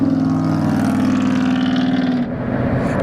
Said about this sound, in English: he's got oversized exhaust pipe to make that racket